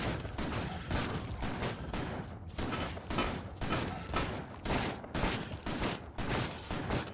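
Shotgun blasts and grenade explosions in Factorio Space Age, a rapid string of loud, punchy bangs repeating at a fairly steady rhythm with short gaps, close and continuous throughout.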